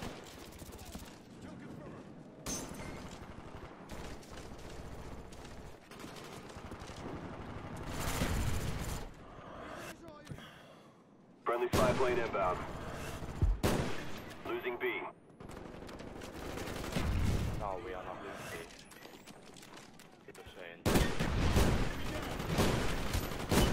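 Call of Duty Black Ops 1 multiplayer gunfire crackles in repeated bursts and rattling automatic volleys, loud and close in stretches, while a player talks over parts of the action.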